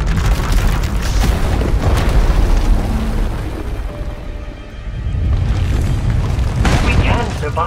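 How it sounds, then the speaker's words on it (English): A Force power erupting into an explosion inside an asylum in the Star Wars: The Old Republic video game: a loud, dense, sustained roar and rumble that dips briefly before swelling back to full strength. "When it erupts, the entire asylum will be destroyed."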